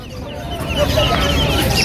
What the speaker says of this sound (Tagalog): Ang ganda manok na ito ah.